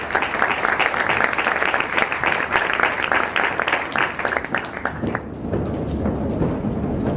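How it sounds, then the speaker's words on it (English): Audience applause welcoming the UNFCCC chair of the subsidiary body for implementation at an intergenerational climate inquiry, dense steady clapping that thins out after about five seconds. "Please give him a warm welcome and a big applause."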